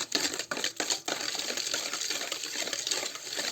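Eggs and sugar whisked by hand in a bowl for an apple poppy seed pie, a continuous rapid clicking and rattling of the whisk, close and moderately loud.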